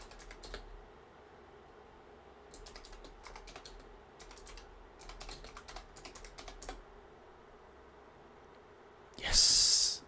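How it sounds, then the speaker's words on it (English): Rapid bursts of computer keyboard typing come in clustered flurries with short pauses between them, close and clicky, ending in a brief loud hiss. "Frantically typing."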